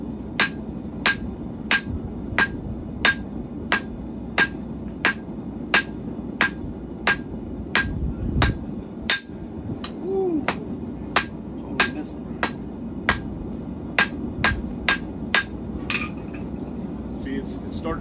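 Hammer blows on hot steel at a forge, drawing out a twisted bar for a hook and nail, ring out in a steady, evenly spaced series of about thirty sharp metallic strikes, close and clear over a low background rumble.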